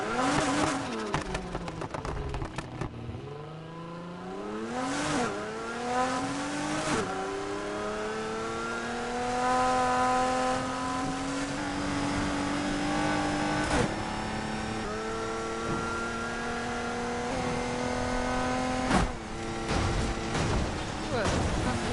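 A truck-like car in the Need for Speed Heat racing game revs hard, its engine pitch sweeping up and down through gear changes with a steady high drone between, loud and close.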